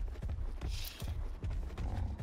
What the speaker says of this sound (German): Ach nee, das ist ein Pferd.